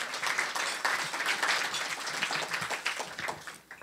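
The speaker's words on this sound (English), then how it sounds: "we can give him applause for that" Luncheon attendees at a chamber of commerce event applaud a commissioner, a full, steady patter of many hands clapping at moderate loudness that tapers slightly near the end, with no talking over it.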